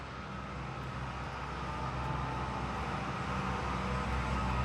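Traffic from a nearby main highway makes a steady, low rumbling roar that stays constant throughout, with no single vehicle standing out.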